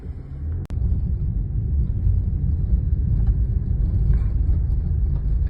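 A car drives steadily along a dirt road toward Magersfontein Battlefield outside Kimberley, its low, continuous rumble of engine and tyre noise holding constant, with a brief sharp knock near the start.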